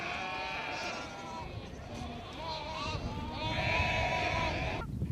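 Herd of goats at a lakeside watering place in Mongolia, bleating repeatedly in overlapping calls from several animals at moderate distance, with a murmur of voices and outdoor ambience underneath.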